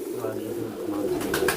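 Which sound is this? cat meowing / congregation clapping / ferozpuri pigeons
ferozpuri pigeons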